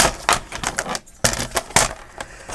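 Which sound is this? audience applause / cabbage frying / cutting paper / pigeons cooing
cutting paper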